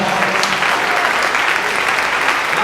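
A church congregation claps steadily and loudly throughout, a dense, even wash of applause filling the room without pause.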